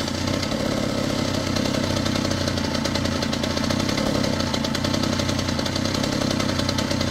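A gas compactor's small engine runs with a rough, fast, knocking chug after starting, steady and close for several seconds with no talk.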